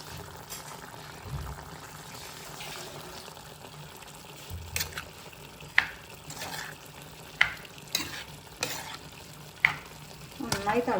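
Chickpeas added to a ginger-spiced curry gravy in a pan give a soft steady sizzle and bubbling, with occasional sharp clicks of a spoon stirring against the pot.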